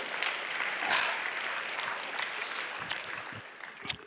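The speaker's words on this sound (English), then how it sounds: "I've never been applauded to getting drunk." Audience applause at a hacker conference talk: a sustained wash of clapping from a crowd, steady and fairly loud, with a few sharper individual claps near the end.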